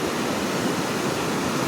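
Strong floodwater rushes loudly and continuously during a typhoon, a dense, close roar of churning water with no pauses and no voices.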